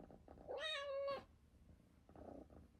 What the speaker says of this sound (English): my cat just told me no